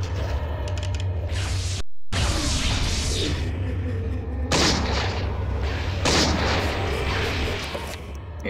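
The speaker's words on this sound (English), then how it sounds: "So I think I'll use my gun." A gun fired in the horror video game Eternal Darkness: Sanity's Requiem, with loud booming blasts and mechanical clanking that continue almost without a break, interrupted by one short silence.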